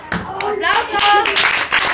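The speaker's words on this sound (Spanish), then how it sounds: "¡Aplausos!" Children clap in scattered, uneven bursts at home during a game, close by, mixed with excited voices and chatter.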